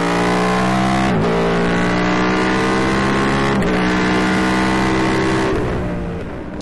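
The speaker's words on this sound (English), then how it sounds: "you let the bike breathe like it's supposed to, it totally transforms and that V-twin engine comes to life" A loud, rumbling Indian FTR1200 Hooligan V-twin race motorcycle engine revs continuously with rising and falling pitch, close and powerful, easing off slightly at the end.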